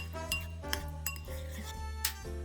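A utensil clinks against a glass bowl while crunchwrap sauce ingredients are mixed, sharp bright taps repeating a few times over a steady background hum.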